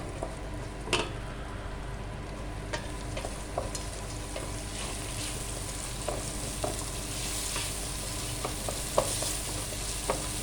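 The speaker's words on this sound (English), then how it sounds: "Fry the onions until it's transparent." Steady sizzling of onions frying in a pan, with occasional clinks and scrapes of stirring, close and moderately quiet.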